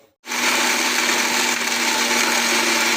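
A mixer grinder grinding chutney starts abruptly and whirs loudly and steadily at high speed, a constant motor drone grinding without pause.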